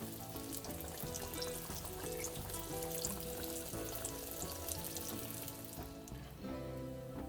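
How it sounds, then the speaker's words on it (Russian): Continuous close sizzling and crackling of pies frying in hot oil in a pan, steady throughout with faint clinks. "Дожариваем последние пирожки"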